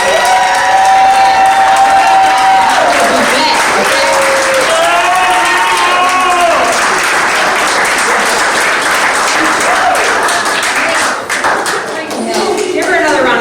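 Loud, sustained applause and cheering from a comedy show crowd, with whoops and high-pitched shouts over continuous clapping, close and energetic, briefly dipping near the end before swelling again.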